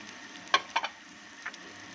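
Spice powders, turmeric, chilli and crushed coriander frying for a fish curry masala, a faint low sizzle broken by a few brief stirring scrapes.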